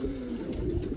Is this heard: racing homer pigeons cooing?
yes